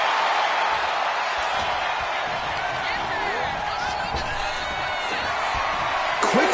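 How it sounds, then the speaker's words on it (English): An arena crowd cheers and roars at a wrestling match in WWE 2K25, a steady, loud wash of noise that runs throughout beneath a commentator's voice. "The WWE Universe is showing their appreciation for the action they're seeing."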